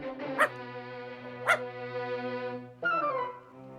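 A dog gives drawn-out, tonal whining barks, close by, with two sharp clicks in between and a rising yelp near the end.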